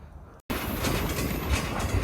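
Freight train rumbling in a rail yard while being backed in, a steady loud low roar of rolling cars and wheel noise after a brief dropout near the start, no talking.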